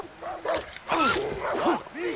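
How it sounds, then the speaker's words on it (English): Dogs bark, yip and whimper in the video game Far Cry 3 in a string of short, mid-distance calls, mixed with game noise while a player talks over them. "I hear dogs."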